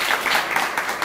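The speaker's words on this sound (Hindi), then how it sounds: "इनके लिए ताली बजा दो" Classroom students applauding their classmates, a brief burst of close clapping.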